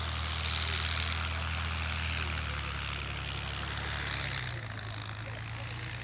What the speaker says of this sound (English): it's going to be two of the Hawker fighters today, the two Hurricanes with the BBMF joining the Lancaster, and we're expecting an entry from behind you